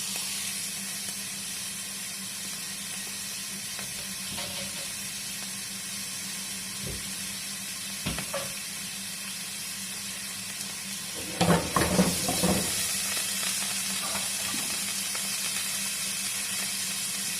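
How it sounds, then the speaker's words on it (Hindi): Chopped onion and crushed garlic fry in a pan with a constant bright sizzle, broken by a few knocks and a louder clattering stir near the end; nobody speaks. "add 1 onion chop and cook till soft, onion soft, and then add the garlic clove, crushed garlic clove"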